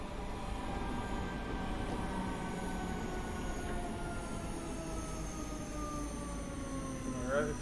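A simulated electric train runs the Cathcart Circle route in Train Sim World 2, giving a steady rolling rumble with a long, slowly sliding motor whine and a faint high squeal, continuous and close throughout.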